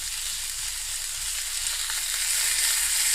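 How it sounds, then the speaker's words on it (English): A smash burger patty sizzles loudly on a hot griddle while a spatula scrapes its crust free; steady, close, bright frying hiss with no voices. "We got a good crust building on the bottom. I'm going to scrape it off, making sure we keep everything intact."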